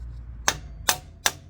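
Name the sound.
rubber or plastic mallet tapping motorcycle axle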